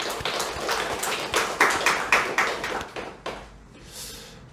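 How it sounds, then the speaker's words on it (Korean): Church congregation claps in praise to God during a worship service, a burst of scattered, fairly close hand claps with a few louder rhythmic strikes that thins out and fades after about three seconds. "오늘 또 이 은혜를 주신 하나님께 박수로 영광을 돌리겠습니다"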